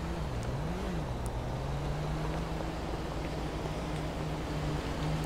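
Steady engine drone of road traffic in a video game, a continuous low hum that rises and falls in pitch as vehicles pass, moderately loud and without talk.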